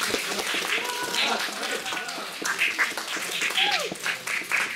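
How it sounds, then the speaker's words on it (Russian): Audience applause in a school assembly hall after pre-election debates for school parliament chair, a dense steady clapping from many hands with a crowd murmur and voices mixed in throughout. "давайте вот общие, очень-очень громкими аплодисментами их действительно просто поблагодарим за"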